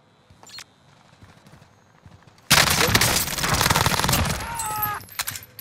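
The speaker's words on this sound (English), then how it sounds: "They're shooting from headquarters." Bursts of automatic and rapid gunfire in the Warzone battle royale video game, a loud sustained fusillade erupting after a quieter stretch with faint clicks and distant shots.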